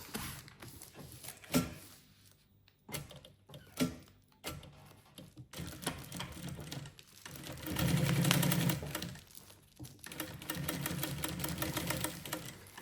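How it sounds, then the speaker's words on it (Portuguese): A sewing machine runs a second seam around the fabric of a lunch bag, with intermittent bursts of rapid stitching broken by short gaps, then longer steady runs, nearby and without talk. "a gente pode fazer uma segunda costurinha em volta de tudo isso"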